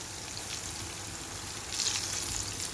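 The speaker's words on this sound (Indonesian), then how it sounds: "Lagi goreng tempe" Tempeh frying in a pan for an Indonesian pecel gambas meal gives off a steady, soft sizzle and crackle. The hiss grows slightly busier near the end, and no one speaks over it.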